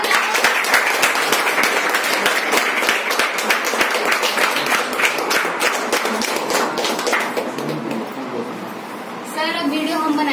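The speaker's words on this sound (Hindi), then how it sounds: "जोरदार ताली।" Loud, sustained applause from an indoor audience, dense clapping that fades slightly toward the end as a voice begins speaking.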